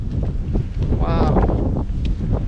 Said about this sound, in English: the wind is getting crazy already